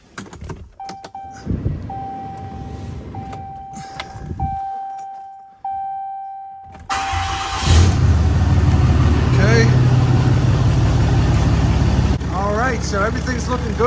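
A 2016 Ram 2500 pickup truck is started after key-on chimes and clicks: the starter cranks, the engine catches with a loud burst, and then it settles into a steady, rumbling idle up close, with a person talking over it.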